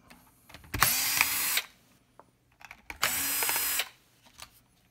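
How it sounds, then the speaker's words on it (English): An electric screwdriver backs screws out of an ER3000 unit being serviced, in two loud, close whirring bursts of about a second each with quiet handling clicks between them. "You'll need an electronic screwdriver of some sort"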